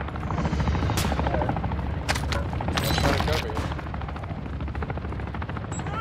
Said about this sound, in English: Chopper coming in.